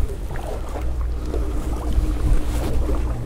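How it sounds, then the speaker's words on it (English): Paddle strokes of a small boat moving upstream against the Russian River current below Monte Rio, soft splashes and water swirl with light wind noise, no talking. "I'm paddling up the river against the current, so I do have a little bit to work against."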